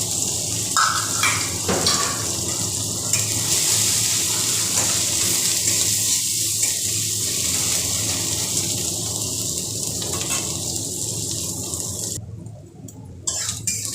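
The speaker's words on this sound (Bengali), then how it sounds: "আর যে আদাটা আমি কুড়িয়ে নিয়েছিলাম সেটাও এর মধ্যে দিয়ে এবার ভালো করে এটাকে ভেজে দিব" Ginger fries in a pan for a spicy magur catfish curry, giving a steady close sizzle broken by occasional stirring scrapes.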